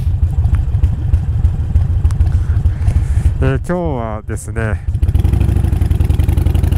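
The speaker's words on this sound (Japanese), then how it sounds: "いや久しぶりにバイク乗ってます" Harley motorcycle engine rumbling steadily while riding, a continuous low drone that dips briefly mid-way, with someone talking over it near the end.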